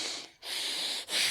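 Exaggerated normal breathing through the nose, a rough, airy nostril friction hiss repeated in three close, loud breaths with brief pauses between them, with no talk.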